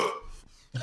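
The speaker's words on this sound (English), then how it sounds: "I don't care if you burp." A single loud, close burp from one person during a tabletop gaming session, followed by a short pause and a low grunt or noise.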